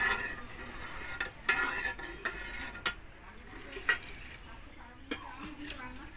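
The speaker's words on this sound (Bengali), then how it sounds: "চাল আর দুধটা আরও কিছুক্ষণ ফুটিয়ে নেব।" Rice and milk simmering for payesh in a pot over a small wood fire, with a low bubbling hiss under repeated light clinks and scrapes of a spoon against the pot, fairly quiet throughout.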